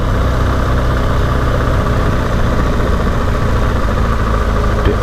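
A BMW GS motorcycle rides through mud, its engine a steady, close, loud low drone with a rough, vibrating texture and no break.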